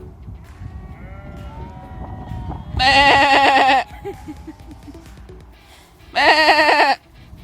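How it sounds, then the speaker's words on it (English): Two loud, close sheep bleats, each about a second long and a few seconds apart, rising over a low murmur of other bleating from a flock of about 300 sheep beside a road near a creek. "there's like 300 sheep just hanging out right here on the side of the road"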